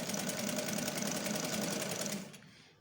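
Sewing machine stitching lace, a fast steady mechanical rattle running evenly at close range before winding down and stopping.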